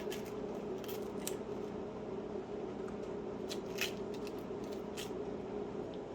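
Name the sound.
onion being sliced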